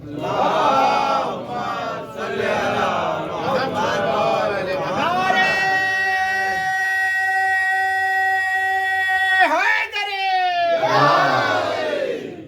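A mosque crowd at a Jashan celebration for the birth of Imam Hussain loudly chants salawat in unison, a long sustained call that follows shouted crowd voices and breaks off briefly before the chanting swells again.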